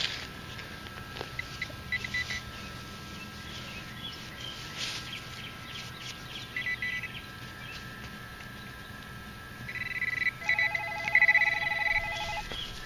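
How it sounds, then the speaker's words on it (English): A telephone rings faintly against the steady background of a metal detecting hunt, with a short electronic tone near the end and no talking. "gotta get the phone"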